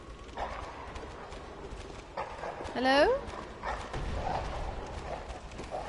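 Dogs bark somewhat distantly in a video game during a tense moment, short yelps and a whine rising over steady game ambience, with a brief spoken word from a player.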